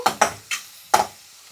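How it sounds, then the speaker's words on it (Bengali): Onions fry in a pan, heard as four short, sharp scraping stirs close by over a faint sizzle, with quiet gaps between strokes. "এবার আমি পেঁয়াজটা একটু ভাজা ভাজা করে নেব"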